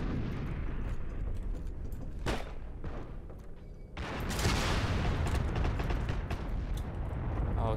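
Gunfire in the WWII shooter Heroes and Generals: sustained shots and distant booms rumble through the first half, then a heavier, louder barrage of rapid fire swells from the midpoint onward, dense and close.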